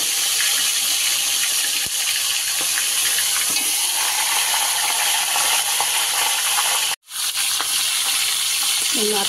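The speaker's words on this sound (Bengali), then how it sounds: "মাথাগুলোকে লাল লাল করে ভাজা হবে" Catla fish heads rubbed with salt and turmeric frying in hot oil in a wok, a loud continuous hissing sizzle close by that cuts out briefly and then resumes.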